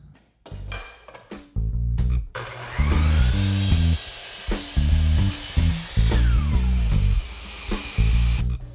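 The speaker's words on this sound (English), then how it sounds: "Then I'm going to drill a hole all the way through it to run the wires." A power drill bores a hole lengthwise through a 1.5 inch wooden dowel for a table lamp post, its motor whining loudly and steadily for several seconds after a few short starting bursts, with faint knocking underneath.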